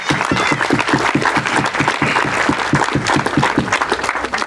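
Audience applause at a year-end thanksgiving gathering in Mocolikia, steady and fairly loud, with brisk individual claps audible throughout the crowd's clapping for the full length without pause.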